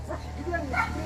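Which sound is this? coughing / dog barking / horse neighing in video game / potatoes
dog barking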